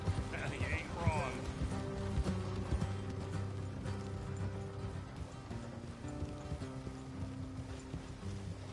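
Horses move in Red Dead Redemption 2, their hooves clip-clopping under game music and ambience, with a brief whinny near the start; fairly quiet overall.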